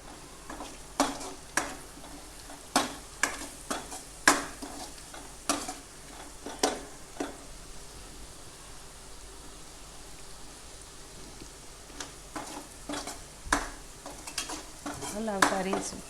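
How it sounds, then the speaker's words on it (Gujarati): Onions fry in a pan with salt and turmeric for a spicy Gujarati tomato tikhari, under a steady sizzle broken by frequent sharp scraping clicks as a spoon stirs them, closest and busiest toward the end. "હલાવતા રહીશું, ડુંગળી બળે ને એટલા માટે।"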